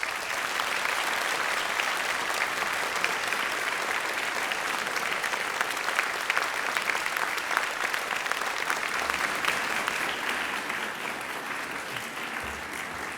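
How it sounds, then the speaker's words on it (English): A graduation audience applauds staff in a large hall, steady dense clapping that holds loud and continuous for the whole stretch and eases only slightly at the end. "Let's applaud them, please."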